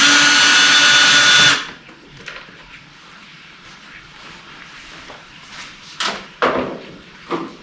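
A power drill whines loudly for a moment as it backs a screw out of the side panel of a Predator 3500 generator, then stops, leaving faint clicks and a few knocks from handling parts.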